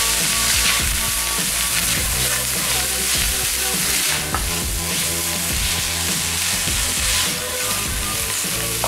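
Mushrooms stirred and frying in a pan, a loud, dense sizzle with repeated scraping and clattering of the stirring utensil throughout, no voices.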